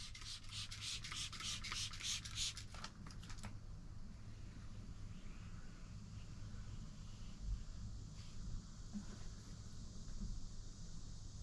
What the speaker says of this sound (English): Now I'm going to squeegee this window off.